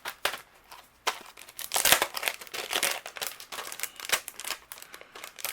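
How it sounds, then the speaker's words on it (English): Paper crinkles and crunches as a coloured stamped image is die cut for a handmade card, with irregular rustling and crackling bursts that come close and fairly loud, and no voices. "take the coordinating die, and we're going to cut out our image"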